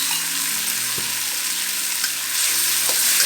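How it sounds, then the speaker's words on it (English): Ginger, garlic and a spoonful of douban jiang chili bean paste fry in a pan, making a steady, close sizzle broken by a few spatula knocks and stirring scrapes. "fry the aromatics. That's the ginger, garlic, and 1 tablespoon of douban jiang"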